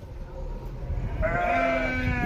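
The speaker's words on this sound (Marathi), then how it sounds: "आमच्या इथे खूप साऱ्या बकऱ्या मेंढ्या आलेल्या दिसत आहे" Goats and sheep bleating near a planted sapling they are eating, a drawn-out wavering bleat rising over low rustling and background noise, fairly close.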